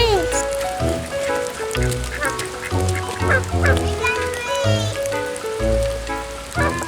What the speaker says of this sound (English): We're letting the chickens out.